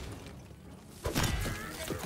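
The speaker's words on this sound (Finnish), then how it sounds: "Täällä on toinen kallo, mä tuhoan sen, mä vaihdan impaktiin ja ammun sen rikki." A skull shot and shattered by gunfire in Tiny Tina's Wonderlands, one sudden bright crash about halfway through that breaks into a short crumbling tail, heard close over low game ambience.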